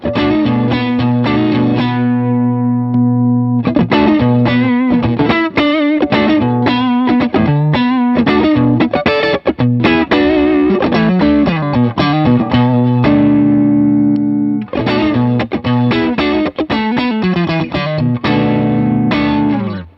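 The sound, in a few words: electric guitar through Tube Screamer pedal, Fender Hot Rod Deville amp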